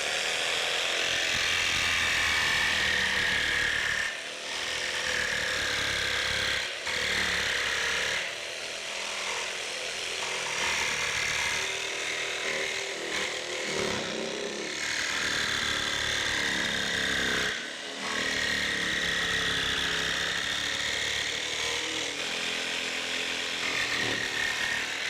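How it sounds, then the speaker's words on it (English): A jigsaw trims wooden pieces for a DIY Jeep storage platform, its high buzzing whine running loud and close in long bursts with brief pauses between cuts. "we're going to use a jigsaw just to trim these out"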